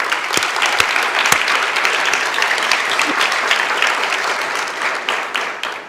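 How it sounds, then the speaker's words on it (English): Audience applause fills the hall at a government honor awards ceremony, a dense steady wash of many hands clapping at full volume for several seconds before tapering slightly at the end. "Please join me in giving them a round of applause."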